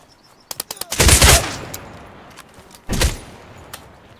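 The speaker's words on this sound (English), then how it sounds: "Oh, we just got shot through the wall." Gunfire in a tactical first-person shooter with M4 rifles while clearing buildings: a few sharp shots, then a loud burst of rapid automatic fire, and another short burst about two seconds later, with no talk.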